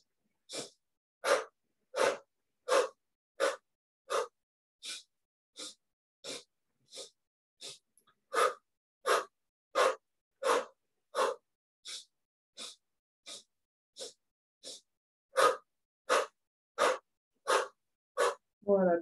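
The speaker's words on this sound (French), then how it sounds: "on va inspirer en 5 temps par le nez et on va expirer en 5 temps par la bouche" Rhythmic breathing during chair-based Kundalini yoga: about two dozen short, evenly spaced breath pulses, quick sharp inhales through the nose and exhales through the mouth, close and alone in a quiet room.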